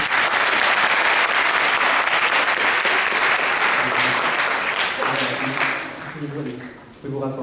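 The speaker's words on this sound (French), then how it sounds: "C'est quand même quelque chose de formidable, on peut les applaudir." Loud, close audience applause at a live stage hypnosis show, dense clapping that runs steadily before thinning and fading toward the end as a voice begins talking over it.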